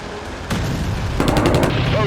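Gunfire in a Vietnam War battle scene at Ia Drang, a loud rolling barrage followed by a rapid burst of shots, dense and close with a heavy rumble underneath.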